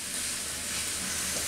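Chicken filling for an Arabian chicken mughlai paratha fries in a pan with a steady, close sizzle, briefly stirred and pressed down.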